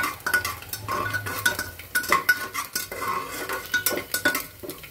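Coconut and cashew pieces roast in a pan, with continuous rhythmic metal scraping and clinking as a spoon stirs them, close and fairly loud throughout.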